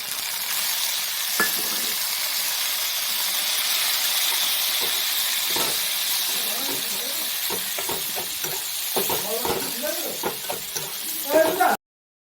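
Onion paste goes into hot oil and sizzles with a continuous hissing steam, followed by clattering stirring and scraping strokes toward the end, close and fairly loud.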